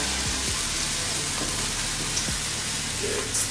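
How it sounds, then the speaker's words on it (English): A chicken breast cooks in water in a pan, giving a continuous close bubbling and sizzling hiss with no pauses and no talking. "the other chicken breast is boiling"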